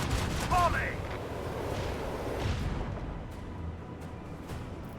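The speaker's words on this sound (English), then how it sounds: "Macro cannon, volley." Rogue Trader video game macro cannon volley: a dense, rumbling barrage of booming ship-gun fire rolling on for several seconds, with a brief whistling tone near the start and some faint voice-like sound mixed in.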